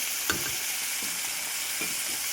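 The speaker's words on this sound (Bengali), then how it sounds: "তিনটে মাছ ভাজা করে নিচ্ছি" Three pieces of tilapia fish fry in a pan of oil, a constant close sizzle broken by a few soft thuds and scrapes as they are stirred or turned.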